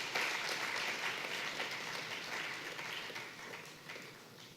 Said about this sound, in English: Give her a very serious warm applause.